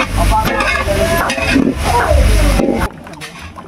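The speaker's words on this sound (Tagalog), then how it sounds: "Yan ang mantika at magluluto ng Luming Batangas." Oil sizzles in a pan while Lomi Batangas is being cooked, with stirring and scraping sounds and people talking loudly over it. It drops off sharply near the end.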